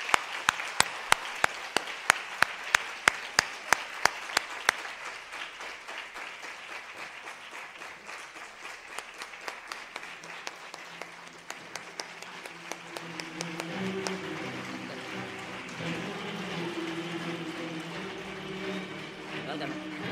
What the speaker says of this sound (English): please welcome Datuk Dr. LIM SIOW JIN to the stage with a big round of applause